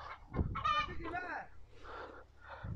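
Chickens cluck and geese honk close by, a busy mix of farm bird calls overlapping one another.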